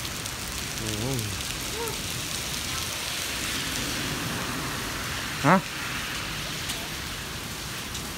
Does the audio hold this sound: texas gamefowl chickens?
no